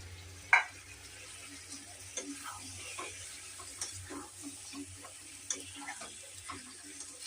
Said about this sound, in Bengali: কষানো হয়ে গেছে, এবার ভাজা চিকেনগুলো দিয়ে দেবো।